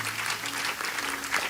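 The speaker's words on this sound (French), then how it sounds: "Acclamez pour ce jeune homme-là." Church audience applauding a young man at a deliverance service, a steady wash of clapping that holds throughout at a moderate, even level.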